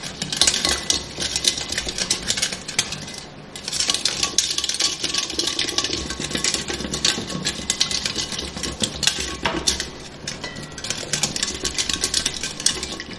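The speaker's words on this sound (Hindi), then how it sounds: "5 मिनट तक मैं इसको फेंटूंगी, जब तक चीनी इसमें डिज़ॉल्व हो जाए।" A hand whisk beats lassi with sugar in a bowl, making a fast, continuous clatter and rattle close by, with brief pauses between bursts of whisking.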